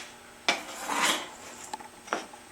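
A thrown clay pot is sliced off the potter's wheel with a cutting wire: a sharp tap, then a soft drawn-out rasp as the wire passes through the clay, followed by a few small clicks, close and quiet.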